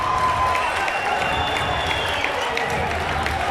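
Both crowds at a district championship basketball tournament roar on their feet, a dense, loud, steady wash of cheering and clapping, with commentary faintly over it.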